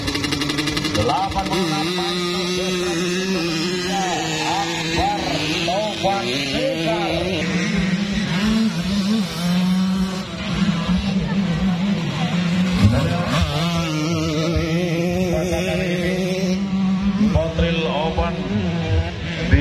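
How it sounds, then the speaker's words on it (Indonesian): Two-stroke racing motorcycles up to 200 cc run on a Powertrack circuit, a continuous buzzing roar of several engines revving and droning together under a commentator talking throughout. "ini rata-rata menggunakan kendaraan 2 langkah sampai dengan 200 cc. Perhatikan dari tekanan suara mereka"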